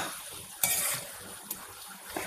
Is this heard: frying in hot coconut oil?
yes